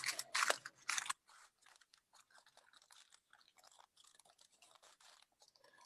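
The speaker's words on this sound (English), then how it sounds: "first we unwrap the tea leaves" Crinkly crunching of packaged oolong tea leaves being unwrapped, loud for about a second, then a run of faint, sparse rustles and small crackles close by.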